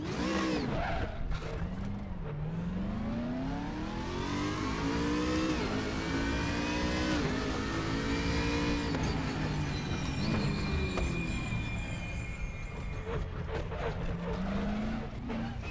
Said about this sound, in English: this is just a brutal sounding engine